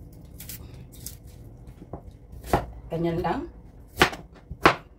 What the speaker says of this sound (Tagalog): Tapos iwain natin ng sibuyas na isa.